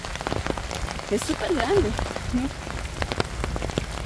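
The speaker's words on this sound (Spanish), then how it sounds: "Un día lluvioso en El Salvador y nos tocó hacer este video." Steady rain falls on a rainy day in El Salvador, pattering with scattered close drips and splashes on surfaces, while a person talks briefly partway through.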